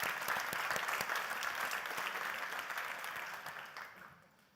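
Sustained audience applause at a university science contest forum in Linz, a dense wash of many hands clapping that carries steadily for several seconds, then thins and fades toward the end.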